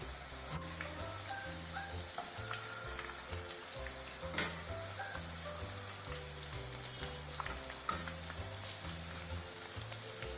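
Onion rings deep frying in hot oil over a medium flame, a continuous fine bubbling sizzle like light rain, steady and fairly quiet with no talk.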